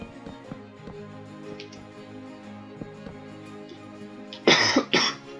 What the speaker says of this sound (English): Ah, there's that cough.